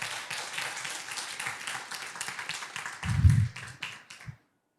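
Church congregation applauding, a dense stretch of many hands clapping in a quick patter that carries on for several seconds before cutting off into silence.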